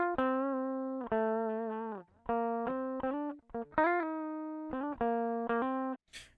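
Clean, unprocessed electric guitar notes and short phrases, played alone with sustained tones and slides, sounding dry and close.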